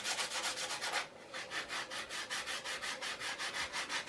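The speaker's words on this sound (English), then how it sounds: "And then just a little sanding and you'll have a very attractive edge piece there." Sanding a wooden edge piece during boat assembly, heard as steady rhythmic rubbing strokes, about a dozen even back-and-forth passes, close and fairly loud with no talking.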